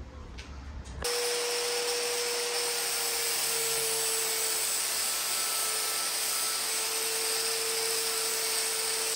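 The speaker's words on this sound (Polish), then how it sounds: "a następnie wywiercę dziury na diody" A power drill bores holes for LEDs in a bracket, its motor starting abruptly and then whining at a steady high pitch for several seconds, loud and close.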